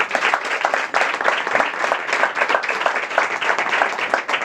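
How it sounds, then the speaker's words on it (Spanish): A crowd at a public event claps steadily for a magistrate, producing dense, loud, continuous applause without pause across the whole stretch. "yo pido un aplauso para él por todo lo que ha hecho en este momento"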